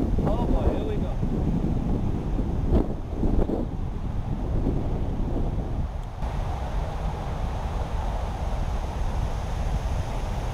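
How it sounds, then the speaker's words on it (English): Wind buffets the microphone on a boat out catfish fishing, a loud steady rumble with water noise beneath, a voice breaking in briefly near the start. "The wind is already picking up some speed."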